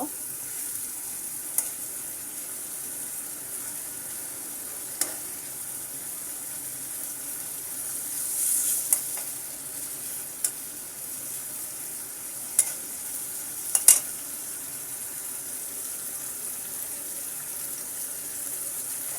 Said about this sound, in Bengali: আমি একটু নাড়িয়ে নেব মশলার সাথে আমি মাছটা কষিয়ে নেব